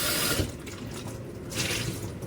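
A kitchen faucet runs into a sink as vegetables for Haitian pikliz are rinsed, a steady close hiss of water with a couple of louder splashy swells where the stream strikes the produce.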